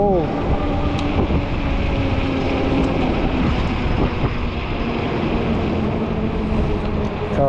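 Cold wind roars steadily against the microphone, a loud, constant broadband rush with low rumbling, heard outdoors while riding a 20-inch folding fat tire e-bike.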